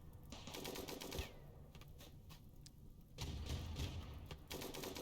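Autocannon turrets firing in the video game Rimworld, bursts of rapid mechanical shots in clustered volleys, fairly faint, pausing briefly mid-way before another dense burst resumes.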